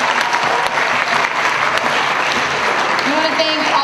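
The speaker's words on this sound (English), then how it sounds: "Round of applause, guys." An audience at a high school poetry slam applauds, steady dense clapping from a crowd for a few seconds.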